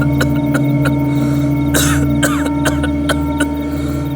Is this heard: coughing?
yes